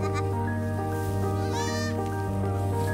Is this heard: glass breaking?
no